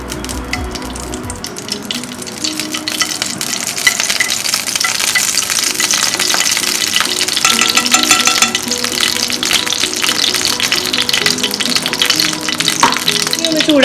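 Ghee heats in a pan for a Mangalorean-style prawns ghee roast, sizzling loudly and continuously. The frying hiss builds after a quiet start and holds strong throughout.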